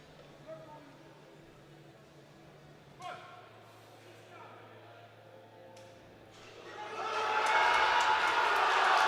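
Crowd at a European junior classic powerlifting championship in Skierniewice, Poland, swelling into loud cheering and roaring for a lifter's 250 kg attempt, rising from a murmuring hall to a sustained roar near the end.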